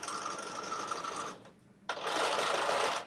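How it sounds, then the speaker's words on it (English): A sewing machine stitches a zipper pouch with black thread, running in a steady close whir, pausing briefly midway, then resuming louder and faster. "I'm about to start sewing these things on down"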